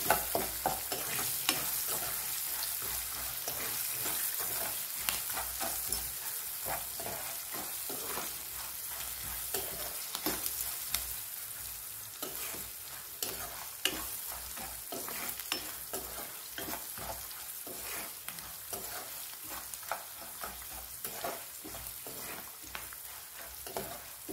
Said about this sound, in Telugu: వీటన్నిటిని చక్కగా వేయించుకుందాము